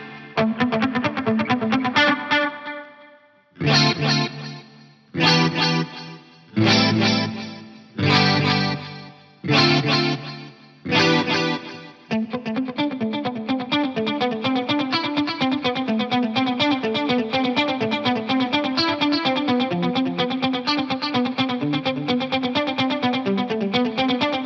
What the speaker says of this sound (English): let's just hear this with a 350 millisecond delay